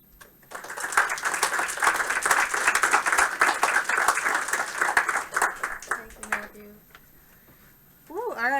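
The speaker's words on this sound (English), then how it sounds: "another round of applause for everybody that's greenlight pitching" Audience applause after a game studio greenlight pitch at a build review, a dense burst of clapping for about six seconds that tapers off, followed by a brief voice.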